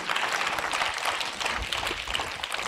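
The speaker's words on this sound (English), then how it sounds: "Shall we clap for her?" Audience at St. Xavier's English Medium School clapping for a student, a brief dense patter of many hands, moderately loud and continuous throughout.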